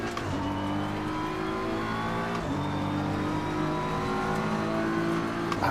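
Ferrari GT race car engine in the Assetto Corsa Competizione racing game, a steady high-revving drone with rising pitch through gear changes and a brief dip around a shift, loud and continuous.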